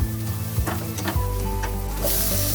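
Ground spice paste is mixed into sautéed onions in a hot pan for mutton chops masala, making a loud, close, steady sizzle broken by a few scraping stirs of the spoon.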